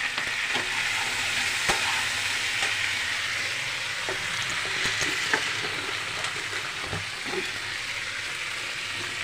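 Chopped tomatoes and turmeric sizzle steadily in a hot pan, with a constant bright frying hiss broken by repeated spatula scrapes and clicks as the mixture is stirred. No one speaks.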